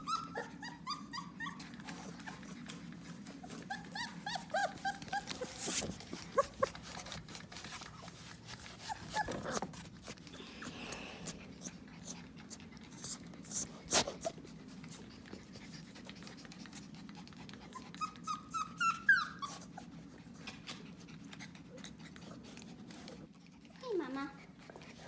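Four-week-old puppies whimper, yelp and give small high barks in scattered bursts throughout, fairly close, while people talk over them at times.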